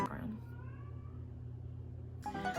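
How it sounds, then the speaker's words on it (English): A pet cat meows in the background, a drawn-out faint meow in a quiet room, followed by a brief burst of other noise at the end. "And my cat in the background."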